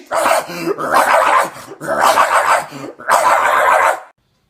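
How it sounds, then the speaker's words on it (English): A dog barks and growls loudly in three long, close bursts separated by short pauses, then the sound stops abruptly. "What does a dog say?"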